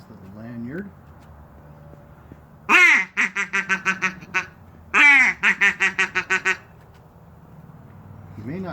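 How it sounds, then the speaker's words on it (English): Handheld duck calls hung on a lanyard are blown in short bursts: a few soft notes, then two loud runs of rapid descending quacks, each a long call followed by a rhythmic string of shorter quacks, close and clear. "we'll sample a few of these calls that I have here on my nice little lanyard"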